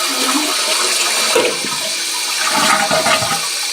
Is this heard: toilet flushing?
yes